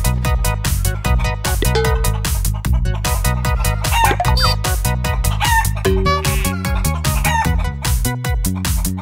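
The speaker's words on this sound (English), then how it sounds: "I have a chicken." Clucking and crowing chickens are set under a loud, rhythmic backing track, bird calls rising in bursts above the steady beat.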